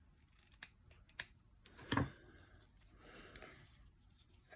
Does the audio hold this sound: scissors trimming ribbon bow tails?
yes